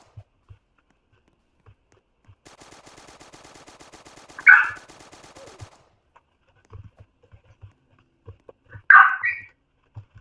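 A gun fires in the Roblox game Strucid, with a steady rapid rattle of automatic shots in the middle, two sharp loud bursts, and scattered soft clicks and taps around them.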